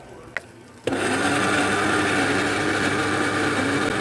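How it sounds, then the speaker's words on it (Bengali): A mixer grinder whirs into loud, steady high-speed running as it blends ginger and garlic into a paste, starting abruptly after a brief click and continuing in an even whine. "এই যে মিক্সিটায় আমি মশলাটা পেস্ট করে নিচ্ছি। এখানে জিঞ্জার আর গার্লিক পেস্ট করে রাখছি"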